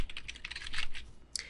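A username and password go in on a computer keyboard, a quick run of close, crisp key clicks followed by a short pause and one final tap.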